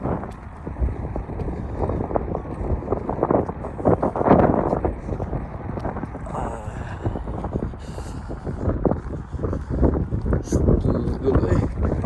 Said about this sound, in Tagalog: Gulo eh. Hangin.